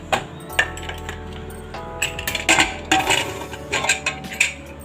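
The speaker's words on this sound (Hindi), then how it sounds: "अब मैं सबसे पहले इसको एक कुकर लूँगी" A pressure cooker is handled in a home kitchen while bottle gourd is cooked, giving scattered metallic clinks and light knocks of cookware, fairly quiet and close, with no talk.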